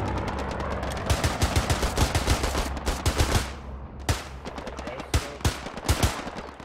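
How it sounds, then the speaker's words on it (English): Hell Let Loose combat on Utah Beach with a grenade blast and gunfire: a burst of rapid shots builds into a dense volley, then after a brief lull come spaced, punchy single shots, loud and close. "Nade blew that dude to bits."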